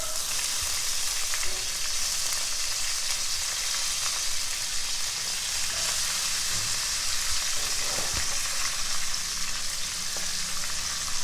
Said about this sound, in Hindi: स्टेक को निकालने के बाद बचे हुए घी में आपने वेजिटेबल ऐड करनी।